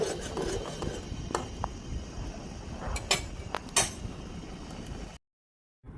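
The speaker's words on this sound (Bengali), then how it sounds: "এখন আবার একটু নেড়ে চেড়ে নিচ্ছি।" Small-fish curry with spices being stirred in a pan: soft scraping and scattered metallic clinks of a utensil against the pan, close and fairly quiet over a low sizzle, ending in a brief silence.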